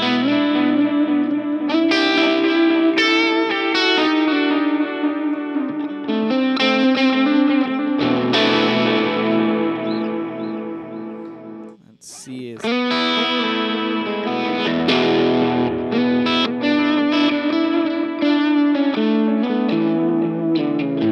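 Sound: guitar through vintage tape delay pedal

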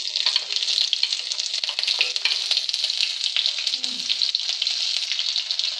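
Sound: cumin and green chillies frying in oil

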